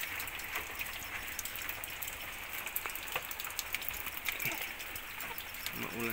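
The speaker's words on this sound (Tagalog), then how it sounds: "Maulan kasi." Steady rain falling on surfaces around a yard where wild junglefowl are kept, a dense even patter throughout with faint bird sounds in the background.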